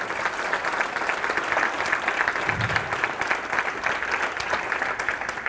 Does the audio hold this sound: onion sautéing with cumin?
no